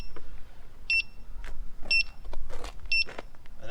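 A Begode Hero C38 HT torque electric unicycle's motor engages in trolley mode, giving three short, close whirring bursts spaced about a second apart over a faint background hum.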